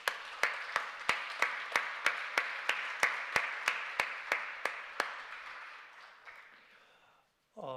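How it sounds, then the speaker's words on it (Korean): A church congregation gives warm applause for the pastor, and a strong, regular beat of unison claps rings out about three times a second before fading into scattered clapping and a brief voice at the end. "우리에게 멋진 상상력을 전해주신 목사님께 우리 다시 한번 고마운 마음을 담아서 따뜻한 박수 보내도록 하겠습니다."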